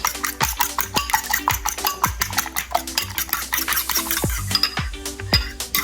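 Eggs whisked in a bowl, a rapid, steady series of close metallic clinks and taps as the whisk strikes the sides, with a faint ringing tone.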